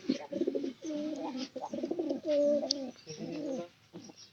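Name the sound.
pigeon cooing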